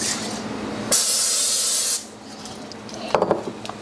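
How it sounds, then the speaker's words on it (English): A can of cooking oil spray hisses in one steady burst of about a second onto a griddle, followed by quieter background and a few faint clicks near the end. "So put some spray on that side."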